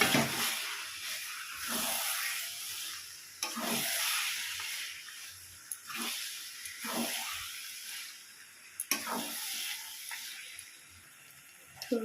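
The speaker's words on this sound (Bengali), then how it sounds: "এবার আমি এর মধ্যে ঢেলে দেবো ম্যারিনেট করা মাংসটা।" Marinated mutton goes into hot spiced oil in a pan for mutton curry with potatoes and is stirred, giving a steady hiss and sizzle broken by a few scraping stirs; no talking.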